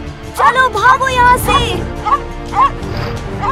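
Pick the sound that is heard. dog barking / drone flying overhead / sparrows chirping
dog barking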